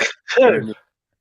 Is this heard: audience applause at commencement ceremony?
no